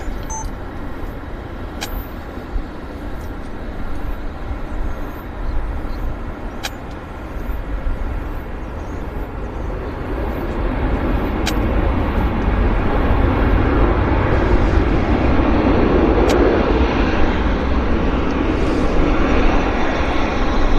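A WestJet airliner arriving at Vancouver airport, heard as a steady broadband jet roar that swells gradually toward the end, fairly loud with faint clicks over it.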